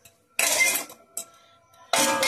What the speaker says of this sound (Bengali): এটা ঢাকা দিয়ে দিলাম আর ডালটাও ঢাকা দিতে